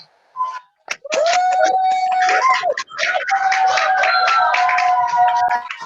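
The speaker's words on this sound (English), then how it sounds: "give them a big round of applause" A round of applause for a class assembly heard over an online call, with several people clapping unevenly alongside tonal beeps and chatter, starting after a brief pause and continuing throughout.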